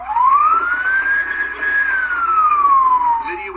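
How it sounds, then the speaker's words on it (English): A Paradise police car races to a house with its siren on, sounding a single long wail that rises, holds and falls, loud and close. "The sound of the police siren was recorded by a Paradise police officer racing to the house."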